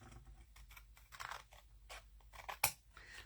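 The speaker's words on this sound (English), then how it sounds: "We're going to cut this with our scissors." Paper being cut with scissors: a series of short, dry snipping and crunching strokes, close up, ending in a sharper snip, with no talking.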